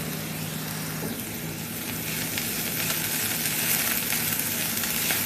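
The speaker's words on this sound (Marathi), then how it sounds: "कांदा चांगला फ्राय करून घ्यायचा आहे तेलामध्ये" Chopped onion frying in oil in a pan, a close, steady crackling sizzle with light stirring that grows slightly louder toward the end, no speech.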